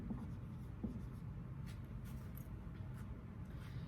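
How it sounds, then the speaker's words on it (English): Pen or pencil scratches softly across paper while a geometry segment proof is written out by hand, with brief faint strokes over a low steady room hum. "I'm just going to write given"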